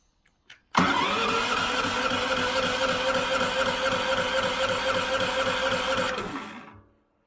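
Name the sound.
Gorilla GP8000IE generator engine turning over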